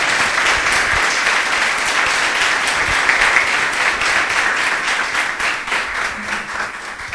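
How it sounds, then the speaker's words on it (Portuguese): A church congregation applauds after a prayer, sustained dense clapping that stays loud and steady throughout, with no voices rising above it. "Palmas para o nosso Deus,"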